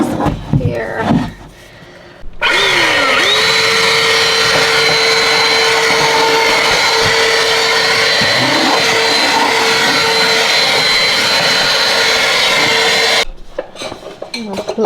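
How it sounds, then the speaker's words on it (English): A vacuum cleaner switches on and runs loud and steady with a high whine for about eleven seconds, then shuts off. Faint talk is heard before. "I need the vacuum."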